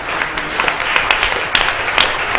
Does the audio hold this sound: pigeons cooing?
no